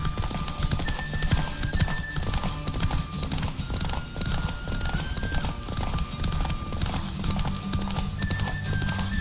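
Rhythmic hoofbeats pound steadily throughout, with a horse whinnying over the galloping, set against a dense game soundscape in The Witcher 3.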